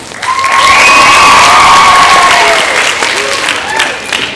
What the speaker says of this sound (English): So can we have another cheer for Idris?